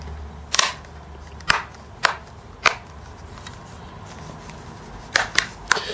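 Sharp plastic clicks and snaps as the back cover of a Tesco Hudl tablet is pressed and clipped into place around its edges, about eight separate crisp snaps spaced irregularly over a quiet background.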